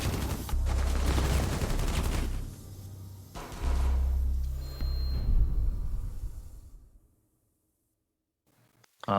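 Dense gunfire from an esports match in a first-person shooter, loud rattling bursts and volleys in several waves that die away into near silence, with a final short burst at the very end.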